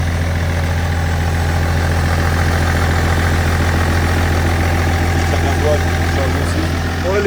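A tuned BMW idles close by in a steady, even drone with a strong low hum and a faint rhythmic pulse, continuous throughout with no break.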